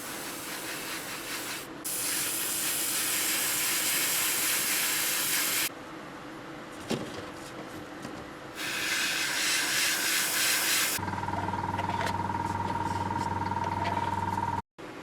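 Molotow Chrome spray paint hisses from the can onto Corgi Porsche model parts in several separate bursts of varying length, close and loud, with pauses and a faint hum between.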